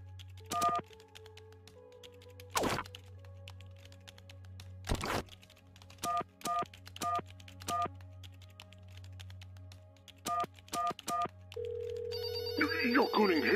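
A telephone rings in the puzzle video game There Is No Game: Wrong Dimension on Nintendo Switch, in repeated short bursts of two or three rings over a steady hum, with a louder buzzing tone building near the end.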